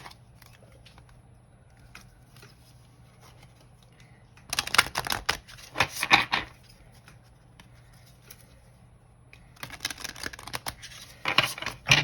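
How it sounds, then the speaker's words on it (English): Tarot cards, a small stack of major arcana, shuffled by hand in two close, crisp bursts of riffling and flicking, separated by a quiet stretch. "I'm going to shuffle these majors"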